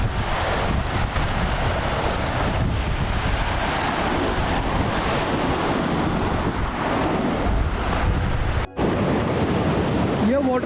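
A mountain waterfall on a trek near Lari village in Tabo, Spiti Valley, roars as a steady, loud broadband rush of falling water, mixed with wind buffeting the microphone, with a brief dropout near the end.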